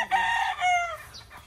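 A white Kelso gamefowl rooster crows once, close and loud, in a single strained call lasting about a second, followed by a faint short note.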